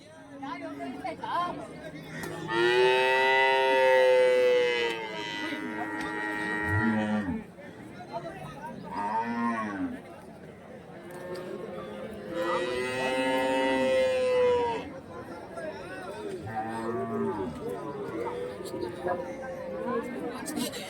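Cattle at the Kelamangalam cattle market, where draught and plough bullocks are sold, give long, drawn-out moos in several separate bouts, with people chattering nearby between and under the calls.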